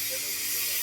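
Steam hisses at a steam whistle blow event in Ravenna, Kentucky, a steady, loud, airy rush that holds evenly for under a second.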